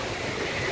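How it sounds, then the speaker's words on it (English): Broadband rushing roar of a waterfall close by, steady and loud with constant splashing wash and no voices over it. "You have a really nice waterfall here."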